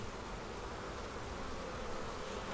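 Honeybees buzz in a steady, dense drone close by as a beehive is opened for inspection, the hum continuous and fairly quiet with no talking.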